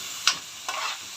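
Pigeon liver and gizzards with onion sautéing in a pan, a soft sizzle broken by a few brief scraping stirs, close and quiet with no voices.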